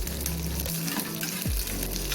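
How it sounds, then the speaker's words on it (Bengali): Onions frying in hot mustard oil, a loud, steady crackling sizzle with a low rumble and a sudden sweeping clink of a utensil against the pan partway through. "দেখতেই পাচ্ছ পেঁয়াজগুলোকে ভাজছি"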